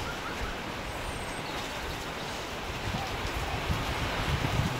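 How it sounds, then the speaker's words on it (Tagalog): Strong wind from a sudden squall buffets the microphone in a continuous roar, growing gustier toward the end, with no voices. "Yung hangin na malakas"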